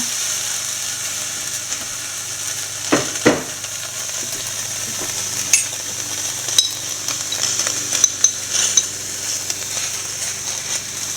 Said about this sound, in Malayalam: കടുക് വറക്കാനായിട്ട് കടുക് ചെറിയ ഉള്ളി ഉണക്കമുളക് കറിവേപ്പില